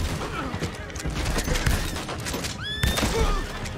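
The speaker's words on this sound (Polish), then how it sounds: "Tak zwana strzelba na daleko." Repeated shots from a long-range shotgun in the Western game Red Dead Online, sharp blasts in a dense exchange of gunfire with ricochet whines and echoing booms.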